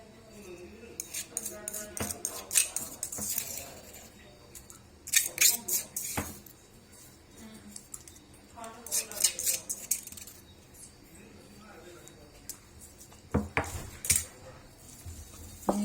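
Metal spoon clinking and scraping against a bowl in bursts of mixing ginger, garlic and green chilli paste, with a voice talking in between.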